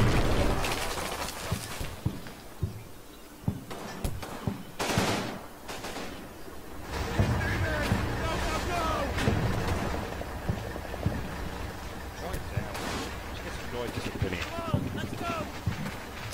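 Mortar and small-arms fire in the WWII strategy game Combat Mission Fortress Italy: repeated bursts and booming impacts over a steady battlefield rumble, with someone talking over parts of it.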